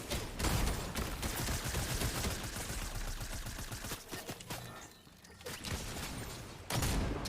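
Rapid video game gunfire crackles in dense continuous bursts, a brief lull then resuming loudly, with no talk.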